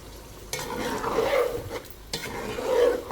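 Garlic water poured into a hot pan of pulao with cumin, giving a close, loud sizzle and stirring scrape that swells in two bursts.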